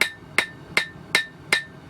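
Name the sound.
hammering metal with an angled peen hammer while forging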